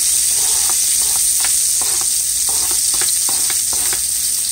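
Garlic sizzles in a tablespoon of hot extra virgin coconut oil in a pan for a vegan kale, mushroom and zucchini saute, a constant loud frying hiss broken by small irregular pops and stirring taps.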